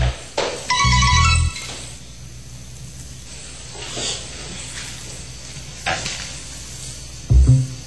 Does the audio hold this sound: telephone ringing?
yes